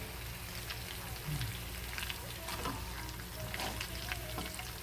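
Pork belly grilling in a frying pan in its own rendered fat, giving a dense, steady crackling sizzle like light rain, fairly faint, with a few quiet background sounds.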